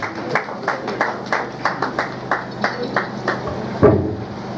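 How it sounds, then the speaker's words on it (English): Audience at a capacity-building workshop for public primary school head teachers claps sparsely: about a dozen distinct claps in a loose, even rhythm, as if from a small group, ending with one louder thump. "Please, a round of applause as he comes, Mr. James."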